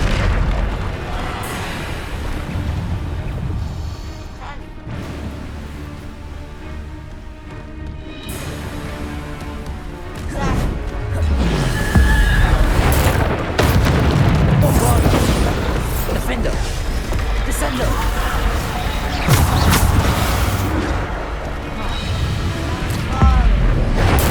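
Spell explosions from Bombarda-type spells in the Hogwarts Legacy video game, loud booming bursts and crashes layered over continuous dense combat noise, with voices shouting spell names throughout.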